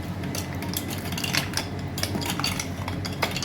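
Butter being washed by hand in a bowl with ice pieces, a continuous close sloshing and clinking of ice against the bowl, steady and moderately loud with no talking.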